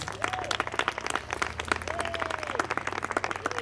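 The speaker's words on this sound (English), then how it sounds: "Clap for those women" An audience at a women writers' gathering in Big Sur claps steadily for a group of women, a dense wash of many hands with faint voices and a low hum underneath.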